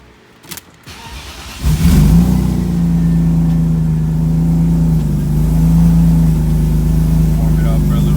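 A BMW E36 drift car cranks and fires up after a few faint handling knocks, then settles into a loud, steady, deep idle that holds close by for the rest of the stretch.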